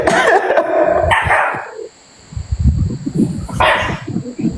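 A dog barks loudly and close by in a quick run of sharp barks, then breaks into a rougher, lower series of yaps and growly barks.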